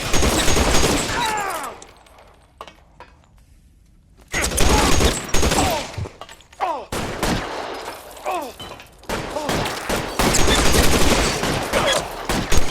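Rapid bursts of gunfire in L.A. Noire, volleys of shots and machine-gun fire that come in loud clusters, stop for a quiet gap, then resume in dense exchanges.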